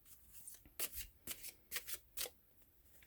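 Tarot cards are shuffled in a quiet room, a series of soft papery riffles and flicks in uneven bursts, close and fairly faint.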